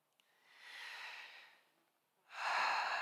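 Two slow, deep breaths during a floor exercise session for back pain, a soft airy inhale followed by a louder, closer exhale, heard alone in a quiet room.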